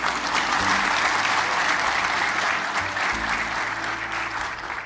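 A seated audience at a motivational talk breaks into steady, dense applause that holds loud for several seconds and then begins to ease, with no speech over it.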